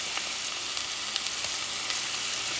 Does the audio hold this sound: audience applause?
no